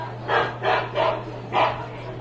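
Dogs barking at a baseball park during a dog-day game, four loud, evenly spaced barks in quick succession above a low hum, suggesting a scuffle among dogs in the crowd.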